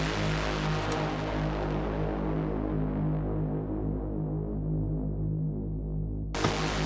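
A thick, buzzing saw-wave synthesizer pad with added unison holds one sustained chord, gritty and distorted, its brightness slowly fading before a brief click near the end.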